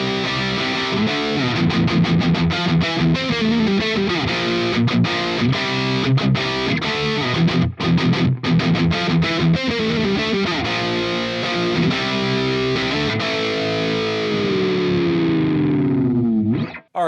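A FireFly electric guitar on its neck pickup played through a high-gain distortion plugin, with loud sustained chords and choppy muted strums, ending on a long ringing chord that fades out.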